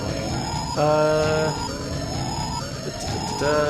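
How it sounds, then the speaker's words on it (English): Wailing sirens sweep up and down inside eerie background music from the video game OFF, repeating in steady looping rises over a droning bed, loud and with no talk. "What's your opinion on this weird music with sirens in it or whatever?"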